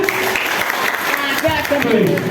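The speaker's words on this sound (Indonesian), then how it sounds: "Yang suka dengan pelajaran bahasa Inggris tepuk tangan." A room of students at a motivational seminar claps along on cue, continuous crowd applause underneath a speaking voice that carries on through it.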